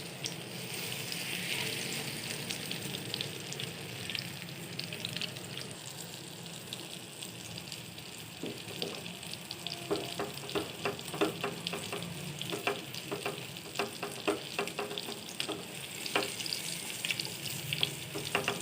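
Egg-coated bread sizzles steadily in a pan over low heat, a continuous crackling fry with scattered sharper pops and spatters growing more frequent toward the end, heard alone without talk.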